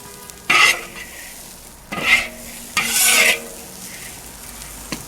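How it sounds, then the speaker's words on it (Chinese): Pickled long beans are stir-fried in a dry wok with no oil, three separate bursts of loud scraping and sizzling from the spatula tossing them, with quiet pauses between strokes. "锅中不用加油，直接倒入这块豆角"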